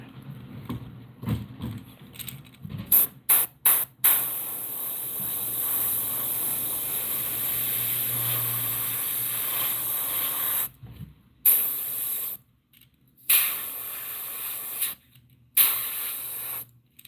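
An airbrush sprays chrome paint onto golden shiner fishing lures in a steady, loud hiss that runs through the middle of the clip, broken into short bursts at the start and again near the end.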